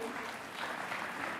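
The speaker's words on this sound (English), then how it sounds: "Another round of applause for him" Festival audience applause at the opening of an international film and TV market festival, a steady, distant wash of many hands clapping from a large crowd, faint and uniform throughout.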